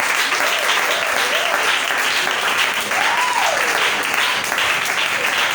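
Conference audience loudly applauding and acclaiming the speakers, a thick, unbroken roar of clapping at close range with faint vocal whoops rising through it.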